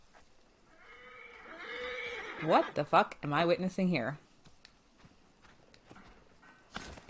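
A horse in a video game, Assassin's Creed Origins, whinnies loudly in a shaky, rising call amid clopping hooves, with a voice speaking over the sound.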